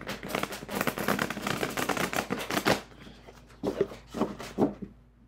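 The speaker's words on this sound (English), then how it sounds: "I'm gonna try to do a riffle and bridge here." Stiff playing cards are riffle shuffled in a dense, rapid flutter of snaps lasting a few seconds, followed by a few softer taps as the deck is squared.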